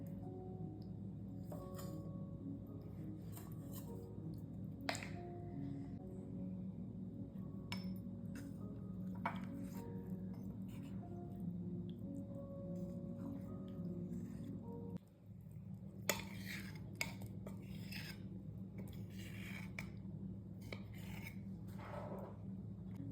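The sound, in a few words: measuring almond butter with spoon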